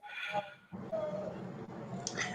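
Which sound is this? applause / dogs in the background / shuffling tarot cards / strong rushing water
dogs in the background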